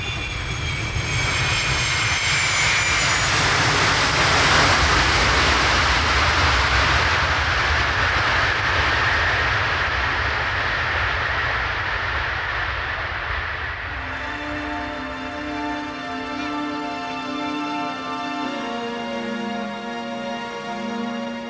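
A loud jet aircraft roars at Kennedy Airport in winter, its broad engine rush swelling then easing as it passes, before a rising and falling turbine whine takes over near the end, with no voices.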